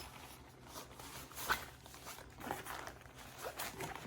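A faint, quiet zipper being drawn in several short pulls, with soft rustling between strokes.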